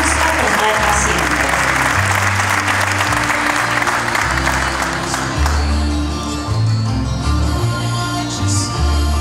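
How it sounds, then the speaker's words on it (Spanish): A graduation ceremony audience at Escuela Enrique Zañartu Prieto gives sustained, loud applause for newly graduated students, steady dense clapping with music or background tones underneath throughout. "Le brindamos un fuerte aplauso a los estudiantes ya licenciados"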